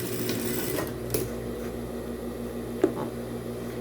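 A sewing machine runs steadily while stitching a seam on a small fabric wallet, with a low continuous mechanical hum and a couple of faint clicks, close and alone.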